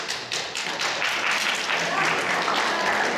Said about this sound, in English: Let's applaud this gentleman that he leave in our audience.